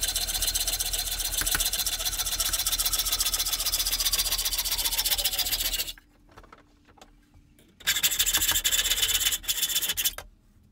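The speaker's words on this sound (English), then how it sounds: "I know now that I can make a rough cut there" A handsaw makes a rough test cut in wood while a dovetail saw is being built. A steady, loud rasping stroke runs for about six seconds, drops to near silence, then starts again in a second burst.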